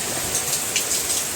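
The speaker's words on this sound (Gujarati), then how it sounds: "આવી રીતના અમારે અહીંયા 2 દીથી આ વરસાદ ચાલુ છે" Heavy rain pours down after a day of steady downpour in Rajkot, a dense, even hiss of drops striking surfaces close by, with no voices.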